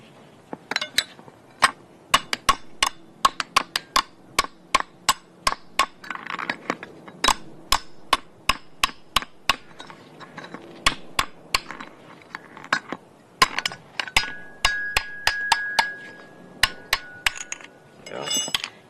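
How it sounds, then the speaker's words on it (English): Sharp metallic taps from a hammer striking metal while tapping out a part of a Porsche 928S front shock assembly, irregular bursts of hits with short pauses, close and clear, with faint ringing. "You can just take a hammer and tap this out"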